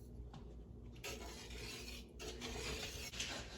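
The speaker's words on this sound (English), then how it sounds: "Now we're going to stir." Scraping and clinking of a utensil stirring in a pot, continuous and close, with a few sharper metallic knocks.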